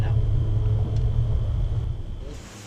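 A car with a blocked silencer runs short of power, struggling to climb past 70 to 80, and gives a heavy low engine and road rumble from inside the cabin that slowly fades, with faint talk underneath.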